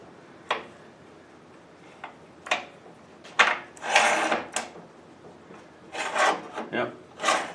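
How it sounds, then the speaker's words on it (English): A piece of styrofoam is pulled loose from the packing around an Evolution 380 chop saw stand, giving a few scattered squeaky rubs and scrapes, close and fairly quiet, with pauses between them. "Pull this piece of styrofoam out of the way."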